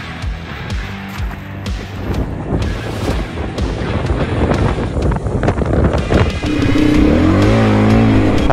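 Adventure motorcycles working their way out of rough, trackless Patagonian terrain, engines rising and revving loudly and close, with strong wind buffeting the microphone throughout.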